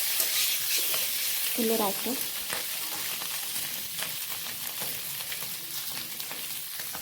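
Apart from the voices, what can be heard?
potatoes frying and sizzling in oil in a wok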